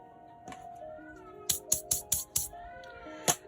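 A pet cat's yowls rise and fall while carrying a toy, followed by a quick run of about six sharp clicks and one more a moment later, close by in a quiet indoor room.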